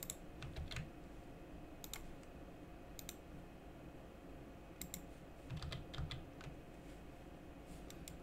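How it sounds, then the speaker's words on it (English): Keyboard shortcuts are typed on a computer keyboard while modeling a Zelda arrow, heard as scattered sharp clicks and short bursts of taps over a low, steady background hum. "So I'll hit Alt C on the keyboard."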